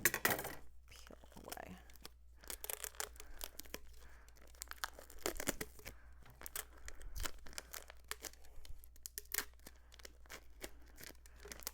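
UV DTF printed transfer film being peeled away from a cured print, giving scattered crinkly tearing and crackling bursts across the stretch, fairly close, with some quiet talk in places.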